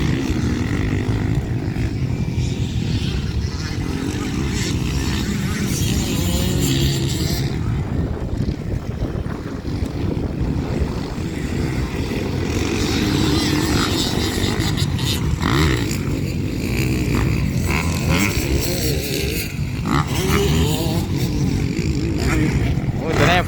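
Motocross motorcycles racing on the last lap of a beginner production heat, a continuous loud engine roar that rises and falls as bikes pass, mixed with wind buffeting and a commentator talking over it.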